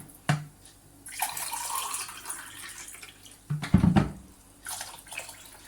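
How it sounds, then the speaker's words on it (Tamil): Water pours from a tumbler over rice and green peas in a cooker for peas pulao, in a few short splashing bursts with quiet gaps between them and no voices. "இப்போ இதுக்கு நான் 2 டம்ளர் தண்ணி ஊற்றிக்கிறேன்."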